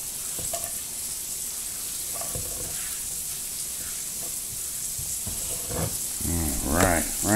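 Venison balls sear in butter in a hot pan, a steady bright sizzle running throughout with a few soft clinks and stirs, and a voice briefly speaks near the end.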